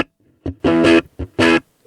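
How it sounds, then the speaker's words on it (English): Distorted electric guitar through a Boss MG-10 amplifier on a distortion setting, playing two short chords, each with a quick pick attack, with brief gaps of silence between them. "This is the closest it gets to sounding like an overdriven guitar amplifier in the traditional rock guitar sense"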